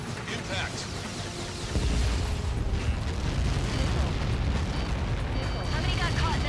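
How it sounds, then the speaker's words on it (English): A massive Helios projectile missile impact in the air-combat video game Ace Combat 7 erupts into a loud, sustained blast and deep rumble that swells partway through and keeps roaring to the end. "How many got caught in that explosion?"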